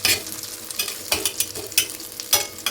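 A spatula stirs and turns fish frying in hot oil for a fish curry. Loud, close scraping strokes come in an uneven rhythm over a continuous sizzle, with no talking.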